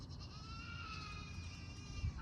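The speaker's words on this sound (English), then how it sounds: "the babies are crying out there, so we better get out to feed the goats" Young goats bleating from a farm pen, a sustained nasal cry heard at moderate distance over steady background noise, with a low thump near the end.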